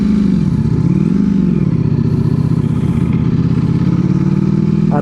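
A 2023 Ducati Panigale V4 SP2 rumbles at low revs while being ridden, a loud, close, continuous throaty drone with slight rises and dips in pitch and constant wind rush.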